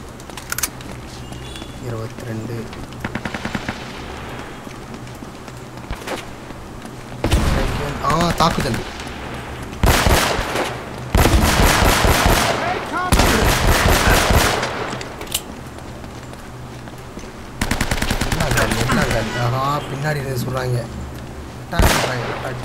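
Loud bursts of automatic gunfire in Uncharted: Drake's Fortune Remastered on PS4 come in several rapid volleys with short pauses between them. A voice is heard faintly in the quieter stretches.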